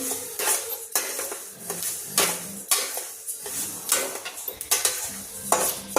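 Unpolished country sesame seeds roast in a pan, with a faint crackle under repeated scraping strokes of a spoon against the metal, close and steady.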